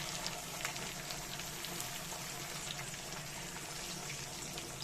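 Tomatoes and onions fry in hot oil in a pan for mocha chingri, a dish of banana flower with prawns, producing a steady, loud, crackling sizzle with no talking.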